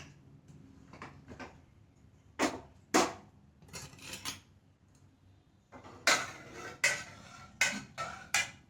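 A pressure cooker of cooked dal being opened in a home kitchen, giving a close series of metallic clicks, clinks and clatters, some spaced apart and others quick, with no talking.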